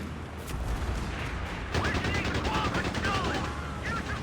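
Heavy machine gun fire in the Company of Heroes 3 video game: rapid, sustained bursts of shots starting after a short lead-in, loud and close, with game voice chatter mixed in.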